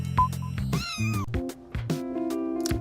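Brown cat character meowing in a cute cat-themed video game, several clear close meows and drawn-out mews over soft game music.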